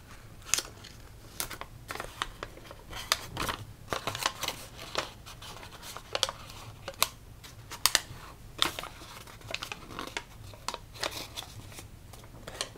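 Paper is folded into a Miura fold, with dry crisp creasing and crinkling in sharp irregular bursts over quiet room tone, close and fairly soft, without speech.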